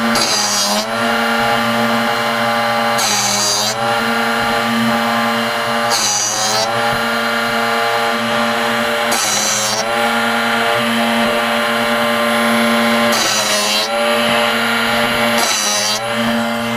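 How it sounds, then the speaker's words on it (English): A Drill Doctor sharpener grinds a drill bit with a steady motor hum, broken every few seconds by brighter rasping bursts as the bit is rocked against the wheel, close and loud with no talking. "it's rocking that drill bit back and forth in there at the precise angle that you need to have it, so it's only sharpening the edge"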